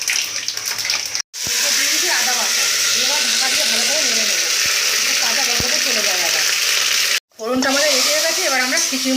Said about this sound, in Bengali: এরপর দেবো আমরা পরিমাণ অনুযায়ী পাঁচ ফোড়ন